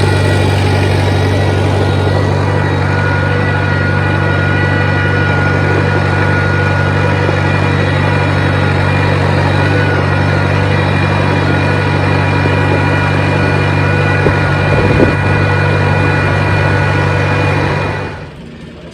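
A Farmall Super C tractor engine runs steadily at a low idle, a loud continuous droning chug close by for nearly twenty seconds before cutting off abruptly near the end.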